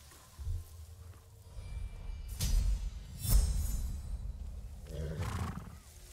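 A horse in the video game Ghost of Tsushima whinnies faintly a few times amid low rumbling background noise and soft hoof sounds, with no voices.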